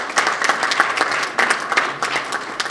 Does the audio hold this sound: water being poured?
no